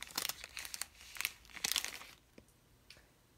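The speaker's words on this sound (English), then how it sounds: "And then we're just going to fold it over like that so we can put it into the shoe." A plastic bag crinkles and crumples in several quick bursts as it is folded over to be pushed into a shoe, loud and close, then settles into near silence with a couple of faint rustles.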